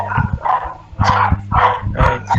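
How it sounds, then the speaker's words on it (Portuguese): Several dogs barking in quick repeated bursts, about six loud close barks in a rough rhythm with short gaps between them, and no talking over them. "Esses cachorros aqui"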